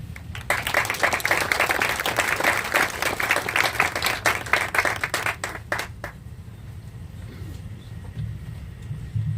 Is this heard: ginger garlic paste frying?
no